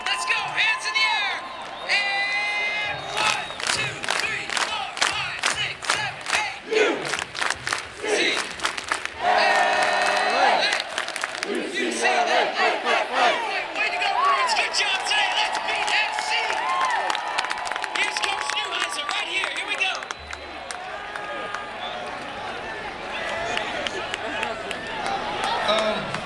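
A stadium crowd of Bruins fans claps and cheers for the seniors, a dense, loud wash of voices, shouts and hand claps that runs steadily throughout with brief dips.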